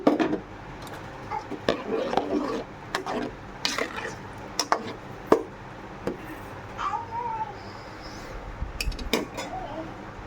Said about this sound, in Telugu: వంకాయలు వేసుకుంటున్నా